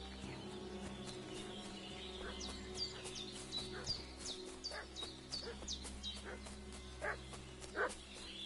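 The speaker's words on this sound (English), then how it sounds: "What's that dog making such a fuss about?" Dog barking in the medieval open-world game Kingdom Come Deliverance, a series of sharp barks repeating at irregular intervals over steady game ambience, with faint bird chirps in the background.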